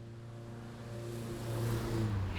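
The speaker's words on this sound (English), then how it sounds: "That was someone driving very quickly down the road in an old Scooby. They've got a hole in their exhaust." An old Subaru with a holed exhaust speeds down a road, its rough, droning engine note swelling steadily louder as it approaches, continuous and unaccompanied by voices.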